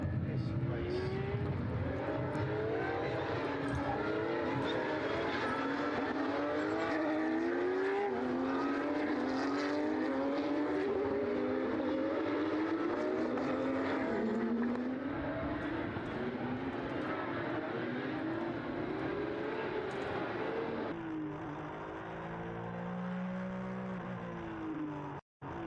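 Porsche Sprint Challenge race cars circle Portimão on the formation lap, with engines droning and rising and falling as they weave, and a commentator talks over the noise.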